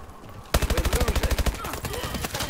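Rapid automatic gunfire from the player's weapon in Call of Duty: Advanced Warfare, a close, loud burst of about a dozen evenly spaced shots, then a few scattered cracks under background game noise.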